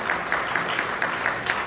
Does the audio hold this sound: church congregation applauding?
yes